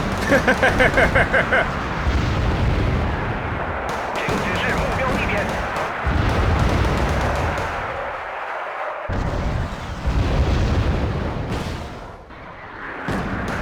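Missile strike in the Wargame: Red Dragon battle, heavy booming blasts and rumbling explosions layered over dense gunfire, loud and continuous with several sharp impacts and people talking over it.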